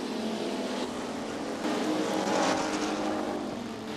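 Dirt track race car at Gallatin Speedway in Belgrade, Montana, accelerating hard under full throttle, a loud continuous engine roar that swells midway as it passes close, with crowd and track ambience underneath.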